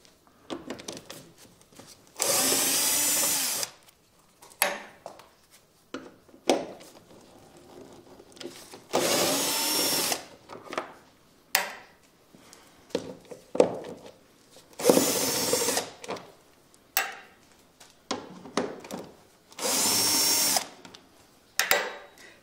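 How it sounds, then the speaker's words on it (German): Power tool driving out the headlight screws of a Mercedes-Benz W639 Vito with a 10 mm socket, in repeated short bursts of whirring separated by pauses and small clicks, close by. "Die schraubt man mit einer 10er Nuss raus."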